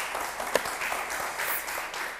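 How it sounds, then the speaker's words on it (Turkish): Studio audience applause on a Turkish word game show, steady dense clapping that holds through the whole stretch at moderate loudness. "Alkışın kuvvetlisi."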